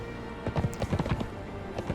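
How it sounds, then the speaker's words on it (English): Quick hoofbeats of a horse galloping in the Conan Exiles video game, a rapid rhythmic run of thuds close up over steady background ambience. "Silver, our horse here, can easily outrun him."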